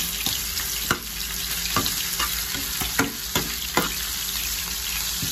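Onion and ginger sautéing in a pan for sarciadong tilapia, a steady close sizzle broken by several sharp scraping stirs of the spatula, with no talking.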